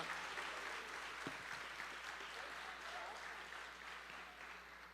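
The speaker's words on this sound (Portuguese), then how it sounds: "Aplauda bem forte ao Senhor." A church congregation applauds loudly for a pastor being welcomed, a dense, sustained wash of many hands clapping in a large room, steady and fading slightly toward the end, with faint voices underneath.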